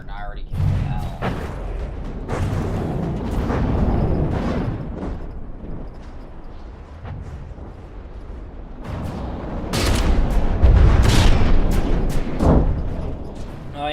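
Cram cannons and advanced cannons fire in a video game, with heavy booming volleys rolling one after another and a dense burst near the end, while a voice talks over much of it.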